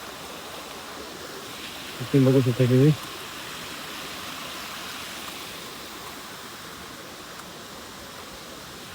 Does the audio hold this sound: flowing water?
yes